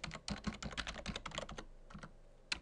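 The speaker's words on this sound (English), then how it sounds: "I'll just type it again to confirm" Quick bursts of keystrokes as a password is typed on a computer keyboard during a VMware ESXi 5.5 server installation, close and crisp, a flurry of taps followed by a short pause and a final key press.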